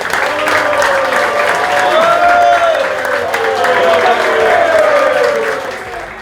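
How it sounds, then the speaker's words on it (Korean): A crowd gathered for an FC Anyang team meal claps in thanks, a steady wash of applause holding level for several seconds, with faint voices over it. "더 이거 먹고 더 열심히 하겠다고 감사의 박수 부탁드리겠습니다"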